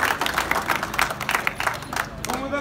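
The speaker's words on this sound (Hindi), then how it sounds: "जोरदार तालियां बजा दो" Audience applause at a comedy laughter show held at the Bhamashah State Data Center: dense, steady clapping from a nearby crowd for about two and a half seconds, mixed with voices talking.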